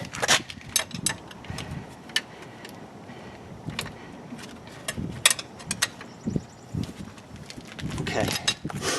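A ratchet tightens the brake caliper bracket mounting bolts on a 2003 Chevrolet Impala, giving close, irregular bursts of clicking and metallic clatter, with someone talking at times.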